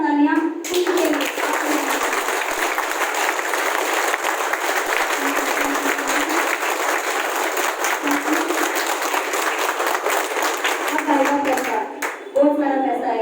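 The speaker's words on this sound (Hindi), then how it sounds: "एक बार जोरदार तालियां खुद के लिए।" A crowd of audience members claps loudly for themselves at an RCM business gathering in Karnal, a dense, sustained wash of applause lasting about eleven seconds before fading, with a voice briefly heard near the end.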